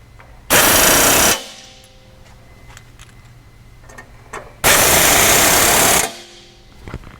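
Power tool tightening bolts on a Pioneer 1000, two loud sustained bursts of rapid impact rattling, each over a second long, separated by quiet workshop clinks.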